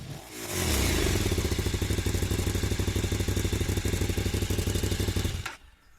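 A KTM motorcycle engine fires up and revs hard with a loud, steady, rapidly pulsing mid-pitched drone, then rides off, the roar cutting away after about five and a half seconds.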